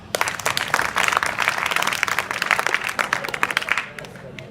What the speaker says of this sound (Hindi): शाबाश, ताली बजाओ इनके लिए